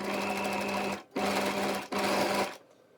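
A sewing machine stitches a single layer of fabric at a regular 2.5 stitch length, running in three close, loud bursts of steady mechanical whirring with brief pauses between them, then stopping.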